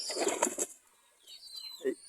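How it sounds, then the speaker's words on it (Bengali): A quick burst of pigeon wing flaps up close, then a brief quiet stretch with faint chirps and a single soft flap at the end. "এই হচ্ছে সেই কবুতরটা"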